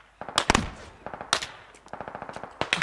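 An M240 Bravo machine gun in the video game Squad fires several short, sharp bursts of rapid shots with brief gaps between them, moderately close.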